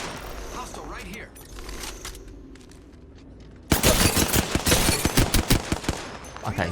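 A Hemlok rifle fires in the video game Apex Legends. After a quieter stretch of game ambience, loud rapid bursts of gunfire break out close by in a dense, rattling string that lasts to the end.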